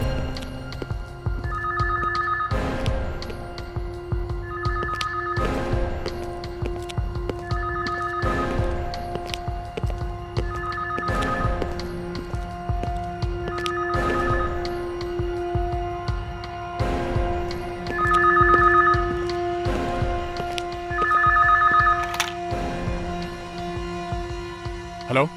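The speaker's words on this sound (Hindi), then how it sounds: "फोन कहाँ बज रहा है?" A telephone rings inside a house in a Hindi TV crime drama, its bright electronic trill repeating in regular bursts roughly every three seconds over background music, with faint voices underneath.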